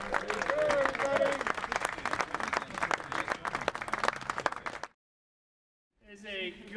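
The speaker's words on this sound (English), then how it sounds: "Give yourselves a round of applause." Film crew clapping and cheering at the wrap of a big-budget sci-fi action feature, dense applause with whoops under voices for about five seconds, then a pause before talk resumes.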